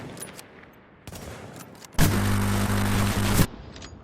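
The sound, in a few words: gunfire in the video game The Division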